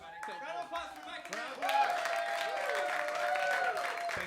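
Audience applause at a small live nerd-culture show in a studio: a broad wash of clapping and crowd noise that swells after a moment, with voices speaking over it throughout.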